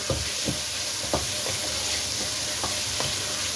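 Mutton liver sizzles steadily as it is fried in masala in a pan, with a constant hiss and several soft stirring knocks scattered throughout, close and moderately loud.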